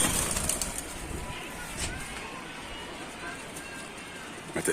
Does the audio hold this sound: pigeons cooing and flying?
yes